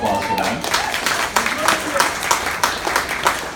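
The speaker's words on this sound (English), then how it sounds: "So another round of applause for them." Wedding guests at a reception applaud the bridesmaids and groomsmen, a dense, steady patter of many hands at moderate loudness that continues throughout, mixed with the murmur of the room.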